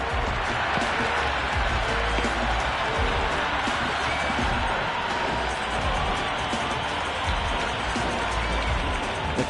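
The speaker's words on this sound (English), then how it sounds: "The crowd is electric right now." Cricket stadium crowd at an IPL match between Chennai Super Kings and Delhi Capitals, roaring and cheering after a big shot in a sustained, loud, dense wash of noise.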